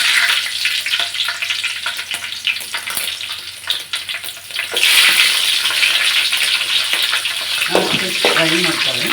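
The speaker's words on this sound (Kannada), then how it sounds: "ಫ್ರೈ ಮಾಡ್ಕೊಳ್ಳಿ" Cumin seeds, curry leaves and green chillies hit hot oil in a pan, giving a loud hissing sizzle that swells midway and stays bright and steady, with a few clatters near the end.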